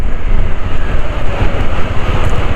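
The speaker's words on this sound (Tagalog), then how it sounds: "At gumigewang yung motor ko dahil malakas ang hangin." Strong mountain wind buffets a Dominar 400 motorcycle on the road from Abra to Kalinga, a loud, constant roar with no talking.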